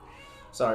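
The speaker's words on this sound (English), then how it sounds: "that's my cat." A pet cat gives one short, close meow at the end, following a moment of quiet speech.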